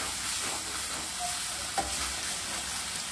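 Pepper chicken fries in a pan and is stirred, making a steady, dense sizzle with soft scraping. A single clink sounds partway through.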